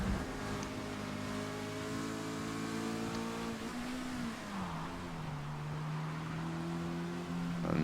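A Mazda MX-5 race car in Forza Motorsport, running C class at Maple Valley, sends out a steady buzzing engine note. The revs climb, dip as the car shifts or lifts, then hold a lower droning tone before rising again.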